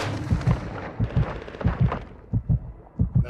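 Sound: gunfire in the video game Warzone

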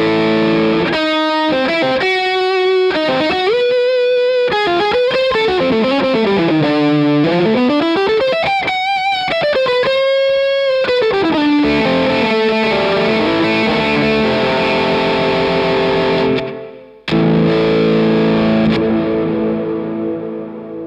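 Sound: electric guitar through Crazy Tube Circuits Rangemaster circuit into Lightspeed

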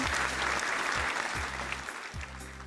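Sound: children clapping hands

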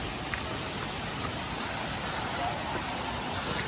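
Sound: waterfall water rushing in forest near Mumbai

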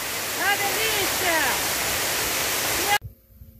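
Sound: waterfall

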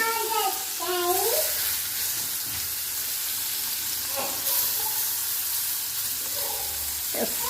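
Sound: food frying in oil

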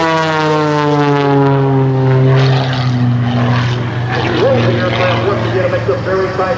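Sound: CAP 232 aerobatic propeller airplane flying at airshow

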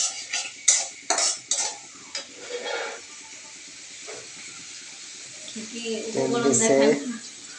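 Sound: stirring spinach and shrimp curry in a pan

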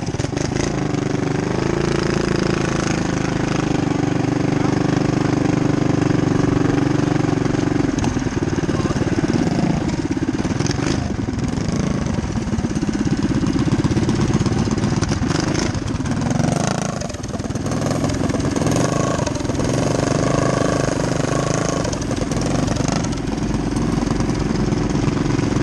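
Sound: motorcycle engine at a parade

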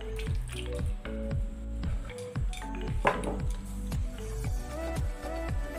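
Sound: tomatoes sautéing with water in pan

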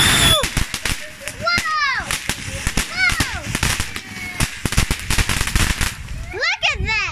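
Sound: fireworks exploding

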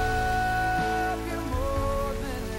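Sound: rain falling outdoors

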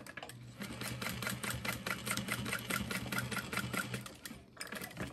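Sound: sewing machine stitching lining

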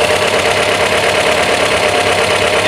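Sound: 544 car engine idling with SU carburetors

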